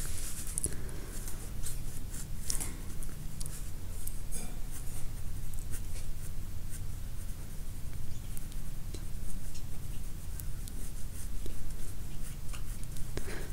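A heavy graphite pencil scratches continuously across paper up close, a dry rasping texture of steady strokes with occasional sharper scrapes.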